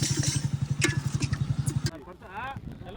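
A motorbike engine chugs close by in a fast, even pulsing rhythm for about two seconds, then drops away as a person talks briefly.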